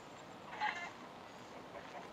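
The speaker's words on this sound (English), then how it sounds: "There's a cat. Oh. Well, the cat's gonna run away from me" A cat in the video game Yogbox gives a single faint, short meow over a steady background hiss.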